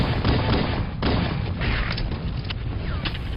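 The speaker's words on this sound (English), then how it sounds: "Number 5. Pistol, Halo Combat Evolved." Pistol from Halo: Combat Evolved firing in multiplayer gameplay, loud booming shots over a dense constant roar of game noise, with a few sharper reports standing out; no speech.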